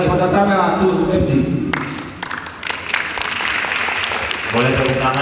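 Audience clapping at a Batak clan Bona Taon celebration gathering, a broad burst of applause between stretches of a speaker's amplified voice talking over a microphone.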